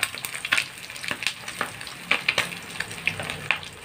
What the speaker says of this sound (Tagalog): Pero mag-ingat lang sa pagpiprito kasi tumatalsik talaga. May tumatalsik. Lalo na yung isdang bangus.